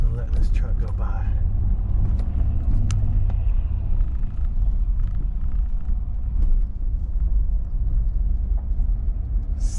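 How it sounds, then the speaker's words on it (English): A truck passes on a road in the small Alabama town of Bayou La Batre with a steady, heavy low rumble that fills the whole stretch while a person talks over it. "let this truck go by"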